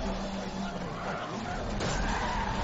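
Simulated car driving in Forza Motorsport on PC, controlled with a Flysky NB4 radio transmitter: a steady engine drone with a brief tire-skid squeal, holding an even level throughout.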